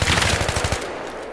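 Rapid automatic gunfire from a gun in Battlefield 3, a loud close burst of about a dozen evenly spaced shots lasting under a second before cutting off into a short tail.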